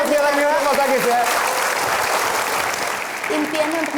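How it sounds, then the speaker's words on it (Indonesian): Studio audience clapping on a television talk show, a full, continuous wave of applause with a voice talking over it at the start and end. "tepuk tangan sekali lagi untuk Mas Agis ya."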